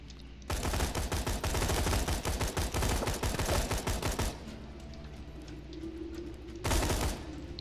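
Rapid burst-fire gunfire from a Borderlands 2 shooter game, loud and dense for about four seconds with clustered three-round bursts, then a pause and another short burst near the end.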